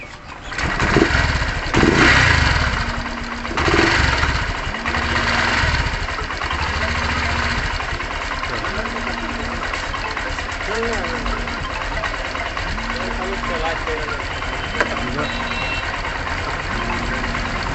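Honda Shine FI BS6 motorcycle engine idling steadily with a regular low pulsing throb, close and fairly loud, while its idle screw is adjusted and someone talks over it.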